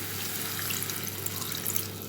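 Water poured from a tap or vessel into a pan of crab curry masala, a steady, continuous rush of liquid, close and fairly quiet, with no talk over it.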